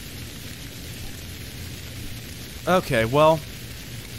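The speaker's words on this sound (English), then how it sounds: "Not another day in the rain." Steady rain hisses evenly across the whole stretch in the video game Stranded Deep, with someone speaking briefly near the end.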